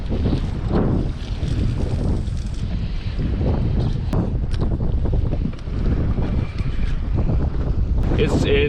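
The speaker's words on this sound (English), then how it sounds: "It's way too windy out here." Strong wind buffets a fishing boat at anchor off Espiritu Santo Island, Baja, a loud steady roar with gusty low rumbling and water slapping, continuous throughout with no talk.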